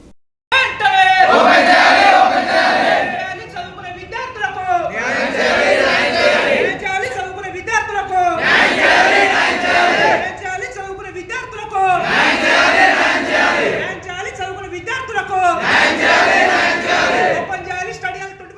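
Students of the SFI staging a dharna at a Karimnagar university chant slogans as a loud crowd, with rhythmic bursts of shouting rising and falling in repeated waves of roughly three seconds, close and sustained throughout.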